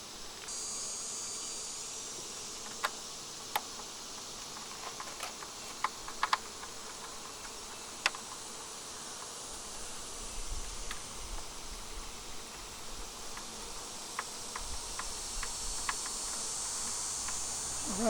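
Honeybees buzzing steadily around a hive while an entrance guard against small hive beetles is fitted, a continuous outdoor hum with scattered sharp clicks and taps from handling the equipment.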